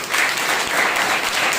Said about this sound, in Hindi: एक जोरदार वापस में ताली बजाइए।